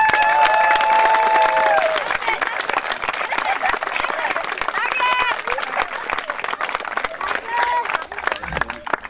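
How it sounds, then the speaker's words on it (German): A crowd applauds the kids at the closing ceremony of a Real Madrid football training camp in Rotenturm, with sustained clapping across the whole stretch while a voice and amplified announcements carry over it. "das hat sich einen riesen Applaus verdient."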